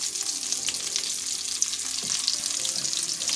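Vegan potato croquettes sizzling in a thin layer of oil in a pan, a steady close crackle and spatter with no voices.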